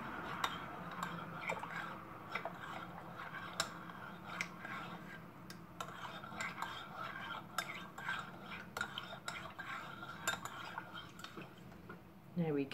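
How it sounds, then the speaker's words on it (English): Spoon stirring sweetened chai tea in a cup, a steady run of light metallic clinks and scrapes at close range, with a voice talking faintly beneath. "Gonna give that a good stir."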